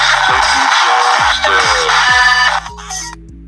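Audio slowed down with iMovie's turtle speed setting: a dense, low, dragged-out jumble of sound with descending pitch sweeps and a warbling tone, loud and close, ending abruptly.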